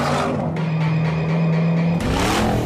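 A 1000 hp Ford Mustang engine revs hard at wide-open throttle, a loud, sustained roar with a steady rising tone that cuts off sharply near the two-second mark before the noise surges again.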